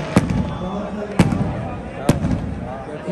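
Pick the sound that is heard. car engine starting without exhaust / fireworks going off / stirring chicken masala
fireworks going off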